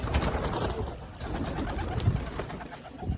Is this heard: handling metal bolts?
no